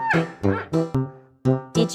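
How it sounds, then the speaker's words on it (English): Repeated short bleating calls from a panda, about five bursts in quick succession, close and clear with no other sounds. "Correct! It's a panda."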